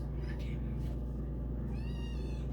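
A cat meows softly a few times, faint and fairly close, with quiet room noise around it and a person's voice nearby.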